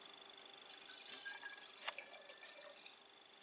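Water runs and drips while soaked sprouting seeds are rinsed, a faint, close trickle with scattered splashes and droplet taps, no voices.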